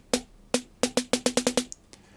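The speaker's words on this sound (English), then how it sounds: "It's just an 808 snare." A synthesized 808 snare with no post-processing fires in short, crisp hits: two spaced strikes, then a quick run of six evenly repeated hits, dry and close.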